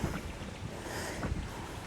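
Strong wind buffeting the microphone beside a fish pond at a campsite in Arayat, Pampanga, in a continuous low rumble, with gusty roaring swells and no talking.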